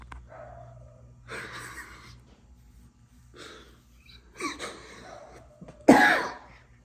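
A puppy gives several short, sharp barks spaced a second or more apart over a low hum indoors. The final bark is the loudest and most forceful.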